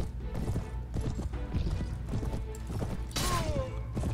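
Horse hooves clatter in a steady galloping rhythm in the Mount & Blade video game, loud and continuous, mixed with dense battle noise and a brief neigh-like squeal near the end.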